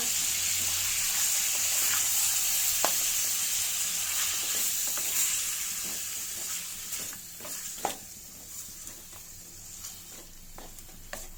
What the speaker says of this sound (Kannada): ಇವಾಗ ನಾವು ರುಬ್ಬಿಟ್ಕೊಂಡಿರೋಂಥ ಅರಿಶಿನ ಮತ್ತು ಈರುಳ್ಳಿ ಪೇಸ್ಟ್ ಹಾಕಿ ಚೆನ್ನಾಗಿ ಮಿಕ್ಸ್ ಮಾಡೋಣ